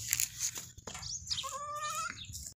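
Young goat kid with long, wide ears bleating close up, a few strained wavering cries with a quavering middle call, over faint background noise.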